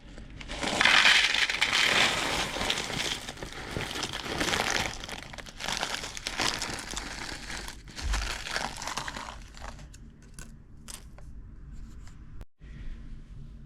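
Loud crinkling and crunching of a plastic cornflakes bag being torn and opened, steady rustling for several seconds before tapering off into quieter handling.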